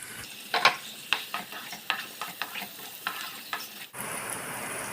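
Chopped green chillies and tomato frying in a pan, a steady sizzle broken by repeated sharp scrapes of stirring, then a louder burst of sizzling near the end.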